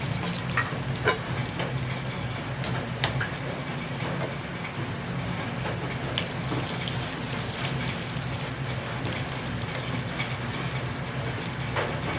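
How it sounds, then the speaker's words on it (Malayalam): Cashew nuts frying in oil in a pan over a low flame give a continuous, even sizzle for the whole stretch, with a few faint clinks from the pan. "കാഷ്നട്ട് ഒന്ന് മൂപ്പിച്ചെടുക്കട്ടെ"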